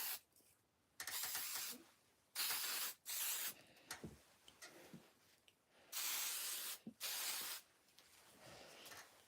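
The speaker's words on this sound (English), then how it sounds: "That mist of that hairspray is like too heavy, you know?" Stronghold hairspray with a touchable feel spraying in several separate hissing bursts of about a second each, close and fairly quiet, with short gaps of rustling between them.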